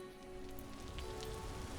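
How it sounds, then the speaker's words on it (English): Steady rain patters on surfaces in the survival game Vintage Story, a continuous hiss heard from indoors near a door, soft and even, with a faint tone underneath and no speech. "It's still raining, as you heard."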